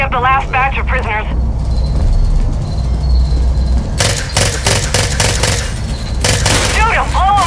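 Gunfire and explosions in the Far Cry video game, with dense bursts of rapid shots and blasts in the second half, and game voices speaking at the start and end over a constant low rumble.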